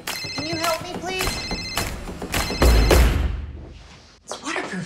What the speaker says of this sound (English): Oh no, I lost my phone. Here we go. Ringing.